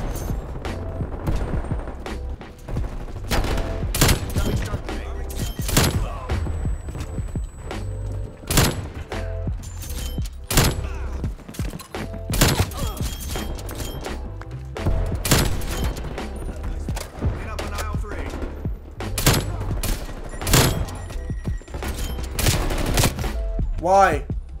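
Gunfire from sniping in the video game Black Ops Cold War cracks out in loud repeated shots amid dense, constant game noise, with scattered talk underneath.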